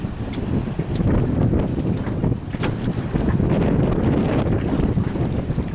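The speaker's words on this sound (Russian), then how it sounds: "Вот отсюда видно, какой силы ветер, какие большие волны." Strong storm wind buffets the microphone in heavy, surging gusts while big waves churn on open water during a fishing trip, a loud, dense roar that rises and falls without pause.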